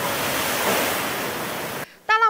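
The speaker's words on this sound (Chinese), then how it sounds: "浪花越卷越高，最后直接灌进东流线码头内。" Typhoon-driven ocean swell crashes ashore at a harbor in Pingtung, Taiwan, a loud, continuous roar of breaking surf that cuts off abruptly near the end, followed by a brief tonal sound.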